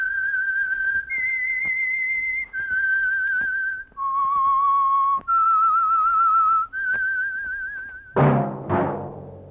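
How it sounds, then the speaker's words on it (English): Whistled melody used as the theme of the 1948 radio drama The Whistler, several sustained, gliding notes with slight vibrato, loud and clear on its own, ending with a brief sharp burst of sound. "That whistle is your signal for the Signal Oil Program, The Whistler."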